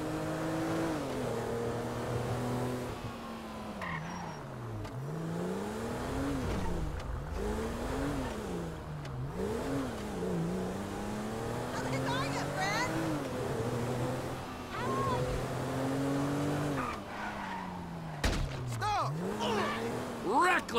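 A car driven recklessly in Grand Theft Auto V, its engine revving up and down in repeated surges with scattered tire squeals, steady and close for the whole stretch, with talk now and then.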